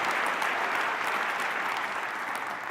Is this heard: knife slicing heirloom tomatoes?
no